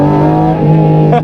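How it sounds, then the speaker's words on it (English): A Porsche 718 GT4 RS Weissach holds a loud, steady, high engine drone during a launch control start on a wet surface, with only a slight shift in pitch near the end. "I'll do another launch control and we'll see if that works."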